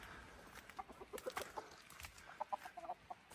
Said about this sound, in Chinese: 那里好像有两只母鸡产蛋